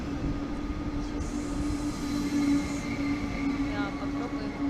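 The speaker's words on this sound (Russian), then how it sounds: "Сейчас должна уже подъехать эта электричка." A double-decker electric commuter train pulls into a German station, a steady loud rumble with a sustained low hum and faint wheel squeal building slightly over several seconds, no voices.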